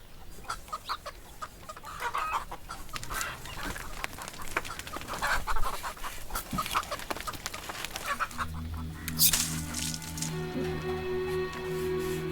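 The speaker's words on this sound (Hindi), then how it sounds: "मुर्गी है" A chicken clucks and squawks nearby amid rustling and handling noise, followed by a steady humming tone near the end.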